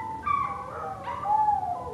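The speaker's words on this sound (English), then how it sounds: "My dogs are barking at squirrels" Dogs bark and yelp at squirrels in a couple of quick, high, howling bursts that rise and slide in pitch, fairly close by.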